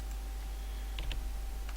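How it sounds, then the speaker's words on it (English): Faint, sharp computer mouse clicks picked up through a headset microphone during a PMDG 777 flight simulator session, a couple of quick clicks over a steady low hum. "For some reason the mouse clicks are being transmitted through my headset"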